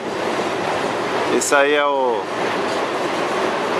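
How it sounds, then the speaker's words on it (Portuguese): A Via Mobilidade series 7000 commuter train passes near the Lapa rail yard, making a steady, loud broadband rumble throughout while someone speaks briefly over it. "Ali vemos o trem da série 7000 da Via Mobilidade."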